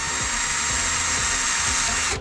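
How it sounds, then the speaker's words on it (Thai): A power drill bores through a PVC electrical conduit pipe, whining steadily and loudly at high speed with a rhythmic grinding pulse for about two seconds before winding down. "เราเจาะ ท่อครับ ท่อสายไฟนะครับ"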